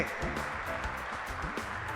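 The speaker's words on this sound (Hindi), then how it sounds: "तालियां थोड़ी जोर से लगनी चाहिए" An audience at a company opening event applauds with a steady, dense wash of clapping, moderately quiet and continuous, with faint voices and a low background hum underneath.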